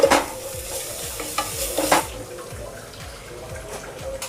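Onions sizzle softly in a pan for chicken pulao while a spoon stirs and scrapes in repeated close strokes, with a few louder clinks, and no talk.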